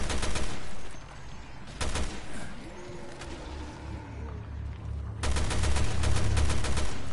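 Gunfire rings out in the survival horror game Resident Evil Revelations 2, loud rapid bursts at the start and end with one short volley in between, separated by quieter stretches of ambient game noise.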